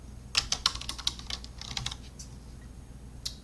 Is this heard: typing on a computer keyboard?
yes